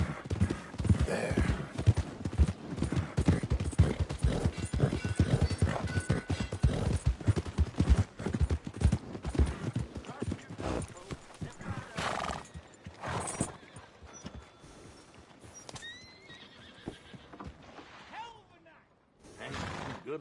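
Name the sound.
horse hooves and neighing in Red Dead Redemption II video game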